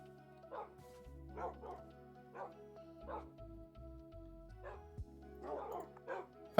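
Dog barks and yips from a TerraFirmaCraft Minecraft game, several short close barks in an irregular run over a low hum of game sounds.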